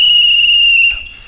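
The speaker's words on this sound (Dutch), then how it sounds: "Met een fluitje." A whistle blown by a pretend lifeguard, one loud, steady, shrill tone held for close to a second before it cuts off sharply.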